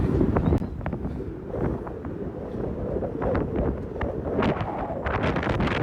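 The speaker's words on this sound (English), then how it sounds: "And it's super windy." Constant rough wind buffeting a microphone outdoors in New York City near the Manhattan and Brooklyn Bridges, a low rumbling roar with gusty crackles throughout and no voices.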